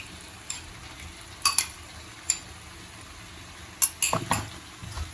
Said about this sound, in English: And then just give it a good stir.